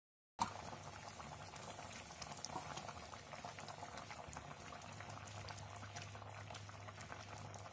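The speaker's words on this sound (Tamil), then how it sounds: "குழம்பும் நல்லாவே கொதிக்க ஆரம்பிச்சாச்சு" A pot of village fish curry bubbles at a steady boil, continuous gurgling and popping close by, with a low hum underneath and no voices.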